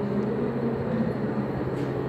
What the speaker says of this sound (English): A train coming in.